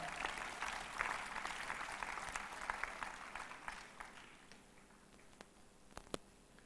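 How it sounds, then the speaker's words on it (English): Audience applause after a public lecture on global software development, a dense burst of clapping that fades over several seconds into scattered individual claps. "Please, I'd like us to give a clap."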